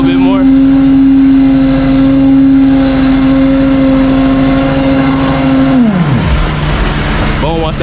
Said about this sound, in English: Burp the truck, get some air in there, build up the pressure a little bit more.